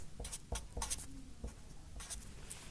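A pen draws a chemical structure on paper, with soft, close scratching strokes in short separate bursts and brief pauses between them, heard alone.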